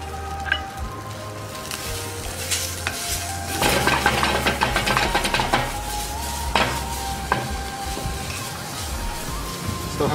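Beef for Peruvian lomo saltado stir-frying in a very hot, smoky pan, a loud close sizzle that swells midway as the meat is tossed, with intermittent scraping and clanks of utensil on metal and no talking.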